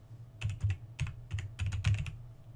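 Short bursts of keystrokes on a computer keyboard as an ID number is entered into a password reset page: close, crisp clicks in small irregular clusters, with no one speaking.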